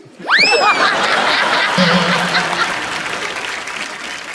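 Burst of clapping and laughter from a studio audience on The Kapil Sharma Show, starting abruptly and continuing steadily, with a brief whistle-like squeal at the start.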